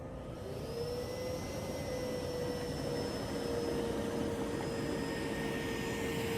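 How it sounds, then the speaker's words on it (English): A powerful robot vacuum cleaner runs steadily on very thick carpet, making a loud, constant whirring hum with a high, thin motor whine and no pauses or voices. "I'm going to show you guys a test run both on the carpet and the hardwood floors so you can see how powerful the vacuum is"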